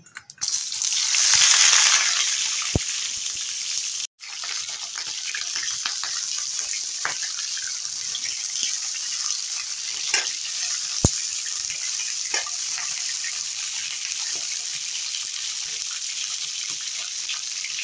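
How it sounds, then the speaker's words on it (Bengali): Pointed gourds (potol) frying in hot oil for an Indian prawn and potato curry, a steady loud hiss and crackle of sizzling oil running throughout with a brief break early on and occasional pops. "তেল গরম হয়ে গেছে, পটলগুলো ভেজে নেব"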